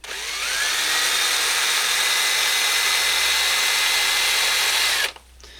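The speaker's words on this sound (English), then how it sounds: "drill on, and work your way always backwards, pulling it out." Small power drill spinning an airbrush needle for polishing, a loud steady high whine held for about five seconds before it cuts off abruptly, close and alone.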